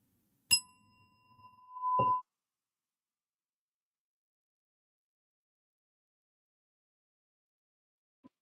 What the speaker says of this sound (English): then we'll have a stretch when I ring the bell again